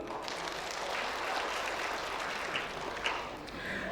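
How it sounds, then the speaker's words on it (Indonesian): Audience applause at a cosmetics company event in a hotel, a steady wash of clapping, fairly faint and distant, continuing evenly without pause. "Aplaus dulu."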